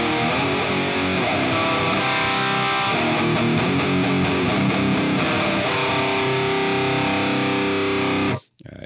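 Distorted electric guitar through an Ignite Amps Emissary amp simulation on the lead channel, played alone as a dense, continuous high-gain riff for about eight seconds before stopping abruptly, with a short burst of noise at the very end.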